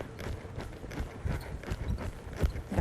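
Hoofbeats of a green young horse stepping over during groundwork, a series of uneven, fairly close thuds in a loose rhythm.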